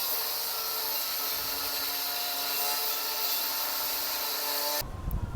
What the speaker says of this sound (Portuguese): Ele tá lá embaixo agora cortando as ferragens.